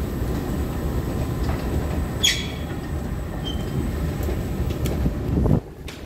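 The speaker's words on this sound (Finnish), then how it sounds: "Stapiolan metro taisi mennä" A metro train rumbles past on the rails, a steady loud roar with faint clicks and a squeal before it cuts off abruptly near the end; no voices.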